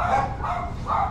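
Several neighbourhood dogs bark in three loud, rough bursts spaced about half a second apart, close by with a steady background hum and no talking.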